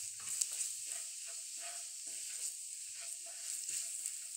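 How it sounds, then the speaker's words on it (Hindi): Spices with red chili powder are stirred in a hot frying pan, giving a soft, steady sizzle with repeated scraping stirs at close range and no voices. "ये हमने थोड़ा सा लाल मिर्च पाउडर लिया है ये भी डाल देंगे। मसालों को चला लेंगे।"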